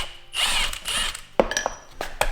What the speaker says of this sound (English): So I've been grinding this thing with this wire wheel right here.